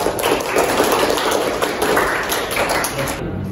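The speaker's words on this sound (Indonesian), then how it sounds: "Tepuk tangan untuk kelompok keempat." A classroom group gives a short round of applause for the fourth group, a dense burst of many hands clapping close by, with voices mixed in.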